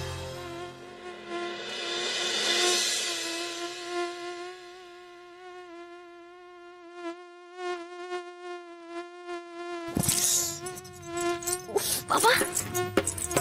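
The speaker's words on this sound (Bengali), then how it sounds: "কি মশা রে! এই মশা তো নয়, এক একটা হেলিকপ্টার।" Mosquitoes whining close by, a steady high drone that wavers in pitch for several seconds before a voice speaks briefly over it near the end.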